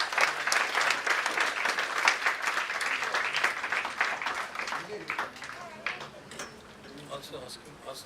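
Audience applause at a professional association's celebration honouring senior members, a lively burst of many hands clapping that gradually thins into scattered claps and fades toward the end.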